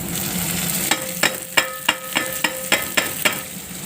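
Tomatoes go into browned onions frying in a pan, bringing a steady close sizzle broken by a regular run of sharp spoon or spatula clacks as the mix is stirred.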